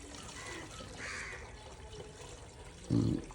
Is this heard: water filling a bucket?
yes